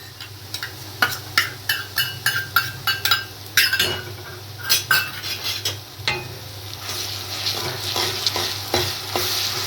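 Onions frying with ginger-garlic paste in a pan for masala rajma, a steady sizzle under a run of rhythmic metal spoon scrapes and clinks against the pan, close and fairly loud throughout.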